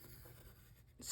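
A pencil traces a line along the inside of a paper shape for a butterfly junk journal, giving a soft, steady scratching close by that runs continuously and ends in a brief, brighter rustle.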